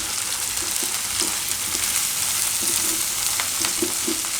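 Gram flour roasting in hot oil with onions for a okra gravy dish, a steady close sizzle and fry hiss throughout with soft periodic stirring scrapes.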